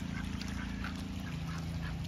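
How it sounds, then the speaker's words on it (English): A group of ducks quacking in a farmyard pen, a dense, steady chorus of nasal calls at moderate distance, with no talk. "ducks are ducks, making a mess"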